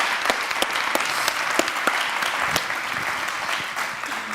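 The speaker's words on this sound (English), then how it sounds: "it's a big round of applause here for Tess?" An audience at a WordPress conference talk breaks into applause, a steady roomful of clapping with sharper individual claps popping out, heard at moderate distance.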